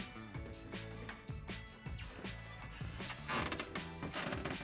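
A Delta Hycroft shower sidewall panel being picked up and handled, giving off a run of close, quiet creaks, clicks and flexing clatters with no talking.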